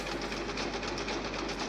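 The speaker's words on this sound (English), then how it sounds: "This is a powerful printer. It fucking launches it" A printer runs in a Chilla's Art horror game, a steady mechanical whirring and rattling with a fast regular pulse, close and continuous throughout.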